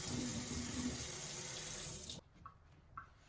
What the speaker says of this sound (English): We're going to start out with one big beautiful sweet potato and we're going to give it a good wash, a little scrubby scrub.